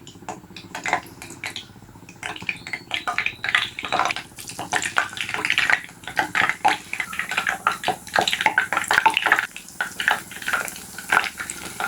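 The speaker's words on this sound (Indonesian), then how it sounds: "ini air pumpnya itu lancar jaya naik sampai ke keran yang paling atas" Water runs steadily from a tap into a sink, fed by a water pump, splashing and gurgling continuously with occasional clatter of dishes, no voices.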